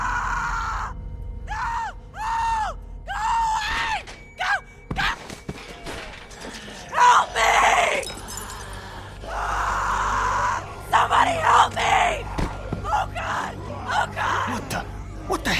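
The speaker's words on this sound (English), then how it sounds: "Walkers don't scream, do they? Jesus, I don't think so. It's a girl." A girl screams repeatedly in The Walking Dead Telltale video game, sharp rising cries in a series of bursts, followed by gasps, groans and thumps. Several characters talk tensely over the later part, with a low game soundtrack beneath.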